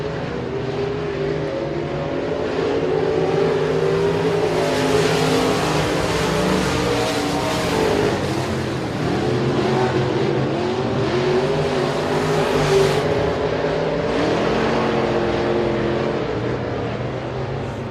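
Modified race cars from the American Racer Modified Series howl around Sabine Speedway, engines roaring loud and continuous as the pack passes, with rising and falling revs throughout.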